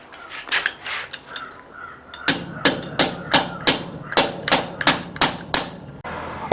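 Hammering a pin into a pin anchor bolt during installation, starting with lighter scattered taps and moving to a steady run of about a dozen loud, sharp metallic blows at a regular pace, close up.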